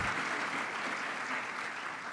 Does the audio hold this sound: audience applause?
yes